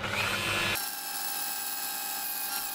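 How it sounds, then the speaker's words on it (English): A Dremel rotary tool grinds a broach bit for a homemade bevel cutter, a steady high-pitched whine that shifts tone partway through and runs on continuously, close up with no talking. "I can grind a hex to size."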